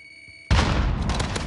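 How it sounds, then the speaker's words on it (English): Grenade explosion in a first-person shooter video game: a sudden loud boom after a quiet lead-in, followed by a sustained crackling, rumbling roar that stays loud to the end. "Grenade out!"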